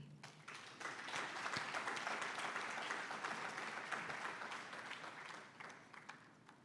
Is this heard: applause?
yes